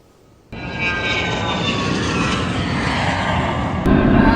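A Cirrus SR22T's engine roars loudly and steadily during takeoff, a broad, continuous drone that starts abruptly after a moment of quiet and swells slightly near the end, with no talking.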